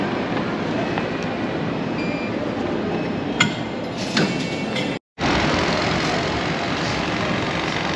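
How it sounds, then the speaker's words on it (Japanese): A former Japanese commuter train running in Jakarta rumbles and hums steadily with faint clinks and rattles, a brief dropout midway, then the running noise resumes. "ジャカルタで活躍する日本のね、元車両、電車ですね"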